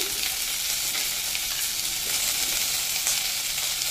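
Tomatoes frying in a hot pan, giving a steady, loud, even sizzle that continues unbroken without any talk.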